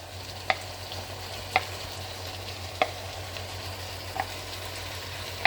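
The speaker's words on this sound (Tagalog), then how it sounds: "Isusunod ko na po ang aking patatas at saka carrots." Potatoes and carrots frying in a pan with sautéed ground beef, a steady close sizzle broken by a few sharp, evenly spaced taps of a utensil against the pan.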